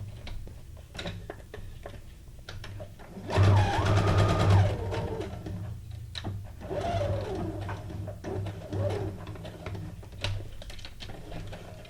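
A sewing machine stitching paper for a junk journal paperclip runs in one short burst of a stitch or two, amid light tapping and handling noises.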